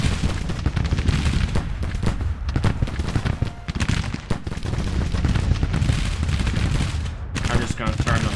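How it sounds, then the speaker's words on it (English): Musket volleys from Civil War infantry in the strategy game Grand Tactician: The Civil War crackle and rattle without pause, mixing dense rippling shots with heavier booms in a loud, continuous battle din. "They're firing now."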